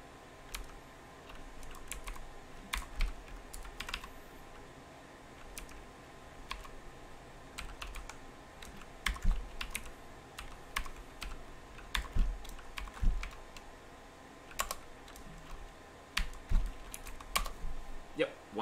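Computer keyboard typing, bursts of quick, close key taps with irregular pauses, sometimes heavier strokes, over a quiet room background.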